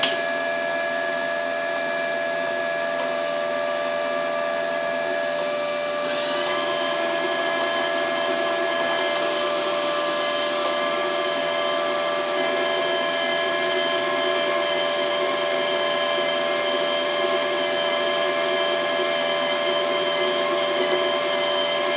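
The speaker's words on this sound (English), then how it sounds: "turn on the welder, press the button, and see the magic happen" A Parkside PMSG 200 A2 multi-process welder runs with a steady, loud electrical hum and whine, shifting slightly brighter partway through and continuing unbroken, with no voices.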